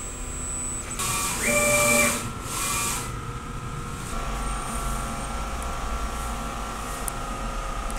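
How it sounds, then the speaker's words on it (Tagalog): An inkjet printer runs a nozzle check pattern, giving a close, loud burst of whirring and clattering carriage and feed motion, then a steadier mechanical hum with faint high tones as the page prints. "Ganito naman po yung tamang pag-nozzle check."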